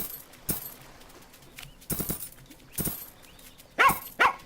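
Dog barks from the farming video game Plantera, several short sharp yaps spread across a few seconds, with the last two loudest and closest together.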